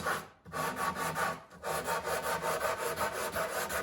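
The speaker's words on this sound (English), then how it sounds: "And you see I just scraped this a few times." A scraper drawn over a wood surface after 180-grit sanding makes rhythmic, raspy strokes, close and distinct, repeating several times with brief pauses.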